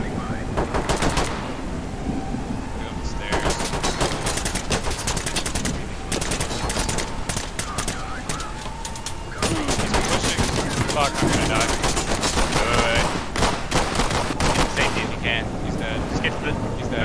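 Gunfire in the tactical shooter Ready or Not, with bursts of automatic fire crackling in rapid clusters across a long stretch, some shots close and loud, others more distant, over steady background noise and occasional player voices.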